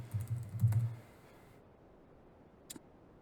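Computer keyboard typing at a desk, a short quick burst of soft close clicks followed by quiet, then a single faint key tap.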